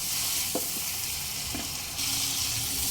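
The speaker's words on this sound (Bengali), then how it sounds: "সমস্ত মশলা একসঙ্গে মিশিয়ে নিয়েই দিয়ে দেবো অল্প একটু গরম জল" Spice paste with Kashmiri red chilli powder sizzles loudly in a pan as a little hot water goes in, a steady crackling hiss with a few stirring knocks and a jump in intensity near the end.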